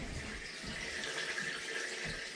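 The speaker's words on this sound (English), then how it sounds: "So we're busy filling the reservoir container" Water from a hose pipe runs steadily into a reservoir container in a greenhouse on a farm in Northern Sweden, a continuous rushing, splashing flow at moderate level with no talk.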